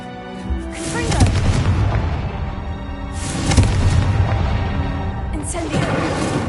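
A Confringo blasting spell goes off in a Hogwarts video game, two or three loud booming blasts with rumbling low-end tails, spaced a couple of seconds apart over a steady busy game background.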